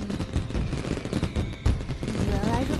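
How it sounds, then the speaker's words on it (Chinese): Fireworks go off in an animated cartoon, a dense, loud barrage of rapid crackling bangs and pops that continues without a break for the whole stretch. "原来是放烟花呀"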